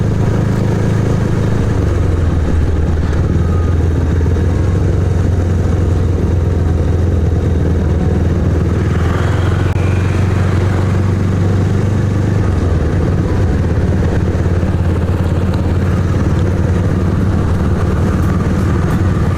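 A motorcycle rides along a road with a steady, loud engine drone that holds close throughout, its pitch shifting slightly midway as the bike travels on.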